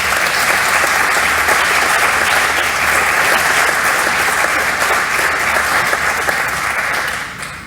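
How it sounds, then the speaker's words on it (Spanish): A congress audience applauds at a plenary closing session, a loud, sustained wash of clapping from many hands that carries steadily and tapers off at the very end. "pido un aplauso para Vicente Garrido."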